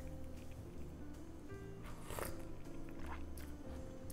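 Crunchy Korean cucumber pickle bitten and chewed close to the mic, faint wet crunches over steady background hum and soft music.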